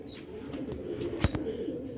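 Close, low cooing from Sialkoti pigeons kept in a breeding loft, a continuous murmur broken by a couple of brief sharp clicks or wing taps.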